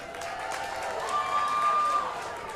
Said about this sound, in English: You better clap just as loud